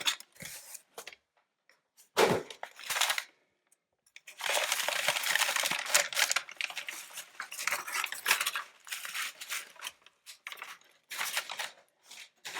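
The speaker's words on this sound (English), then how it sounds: "I wanted to get the noisy paper out of there for you." Crinkly packing paper pulled out of a cardboard box holding a 2018 Purple Trail planner, giving short crackles and then a sustained rustling burst with intermittent crumpling sounds, close and fairly quiet.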